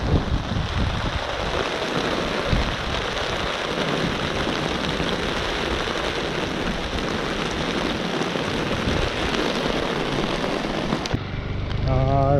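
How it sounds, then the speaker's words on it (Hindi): Heavy monsoon rain pours down in a dense, constant hiss and patter that stays loud from start to finish. "क्या बारिश हो रही है भाई, इसी बारिश में भीग के आया हूँ।"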